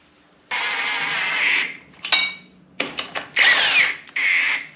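A power drill runs lug nuts onto a wheel of a 1953 GMC truck with a disc brake conversion: several close, loud whirring bursts of varying length with short pauses between, and no talking.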